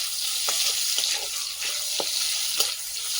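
Chopped onions fry in a kadai with a constant bright sizzle, broken by a few short stirring scrapes at regular intervals.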